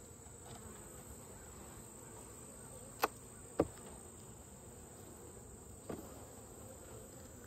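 Honeybees give a soft, continuous buzz inside a hive while frames are pulled out during an inspection, with a few sharp clicks and knocks from the frames over the low hum.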